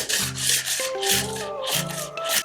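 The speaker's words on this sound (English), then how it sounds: "I'm going to take a piece of sandpaper and I'm just going to sand some of the sides down" Sandpaper rubbed by hand along the sides of a wooden craft piece, giving repeated close, raspy back-and-forth strokes in a steady rhythm.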